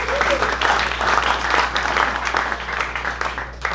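Crowd applause fills a tennis hall of fame ceremony, a dense, sustained clapping at moderate distance over a low steady hum, lasting several seconds.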